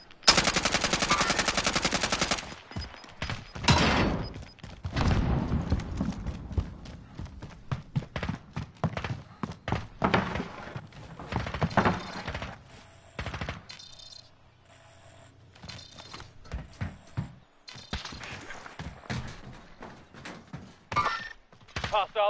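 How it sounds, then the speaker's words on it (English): Rapid bursts of gunfire from a PS4 shooter game, sharp clustered shots and volleys sounding repeatedly at close range throughout, with occasional quieter gaps between exchanges. "there were shots up there somewhere"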